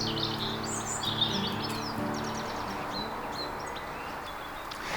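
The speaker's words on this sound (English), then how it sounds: "There's some really pretty birdsong here today" Pretty birdsong in the open air on a Victorian bottle dump site, with bright chirps and short warbling phrases repeating over a steady low hum of background noise.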